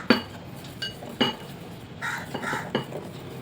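Flour being folded into cake batter for banana chocolate chip cupcakes, heard as a few sharp clinks and scrapes of a utensil against a bowl, spaced irregularly and fairly close.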